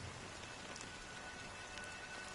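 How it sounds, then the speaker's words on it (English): Steady rain falling in the video game Honkai Star Rail, a soft continuous hiss of drops spread evenly across the whole stretch, quiet and without any voices. "But it's still raining."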